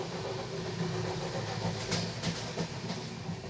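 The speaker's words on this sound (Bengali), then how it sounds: "আমাদের ট্রেন ছুটে চলেছে প্রয়াগরাজ স্টেশনের উদ্দেশ্যে" The Shipra Express passenger train runs along the rails toward Prayagraj with a steady low rumble and faint rhythmic clatter. The sound is moderately quiet and continuous, with no voices.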